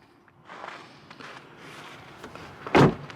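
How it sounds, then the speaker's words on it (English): Quiet shuffling and light footsteps lead up to a single heavy, dull thud of a 2026 Toyota 4Runner TrailHunter SUV door shutting near the end. "let's do the world famous door thunk test"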